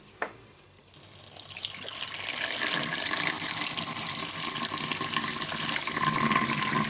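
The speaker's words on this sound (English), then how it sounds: "So this is all the water I get out of this one." A low-flow kitchen faucet runs steadily, its water hiss building over the first few seconds into a constant, close stream splashing into the sink with no talking.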